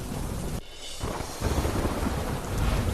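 A strong storm wind roars through Bhavnagar, a loud, gusty, broadband rush that dips briefly and then surges back harder, with no voices over it.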